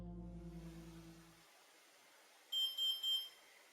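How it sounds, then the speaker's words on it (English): A handheld paranormal-investigation device gives a short, thin electronic beep, three quick pulses close together, faint and alone in a quiet room after a low hum cuts out. "the dog went off again with a shorter beep"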